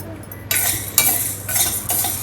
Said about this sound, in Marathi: आता हे साबुदाणे आपण थोडेसे फ्राय करून घेऊया.